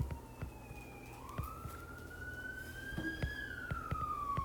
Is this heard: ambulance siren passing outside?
yes